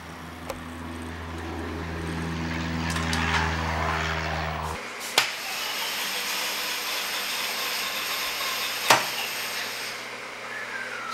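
An aircraft engine's starter cranks with a steady whirring drone for several seconds, then cuts off, leaving a broad hiss with a couple of sharp clicks, heard close by.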